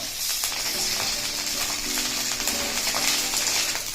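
Tamarind and green chillies fry in a pan for mint coconut chutney, a steady close crackling sizzle running throughout with no talk.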